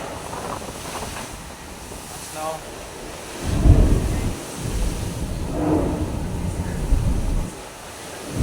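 Strong typhoon winds buffet the microphone in gusty bursts, with rumbling rain and surging water around an inter-island area in Manila, loud and continuous; someone speaks briefly over the roar.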